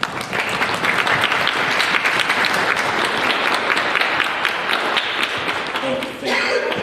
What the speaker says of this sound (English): give our families and friends a round of applause